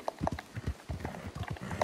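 Horse hooves clip-clop at a steady trotting rhythm in a video game with a Western gunslinger setting, close and fairly loud, with no talk over them.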